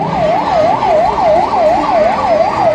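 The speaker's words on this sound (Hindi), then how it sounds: "ये चिरंजीवी एम्बुलेंस सेवा के लिए हर समय तत्पर है। और ये हाई स्पीड एम्बुलेंस है।" A high-speed Chiranjeevi ambulance at a Sumerpur Republic Day event sounds a loud, continuous wailing siren nearby, its pitch sweeping up and down in a quick, regular cycle with no speech over it.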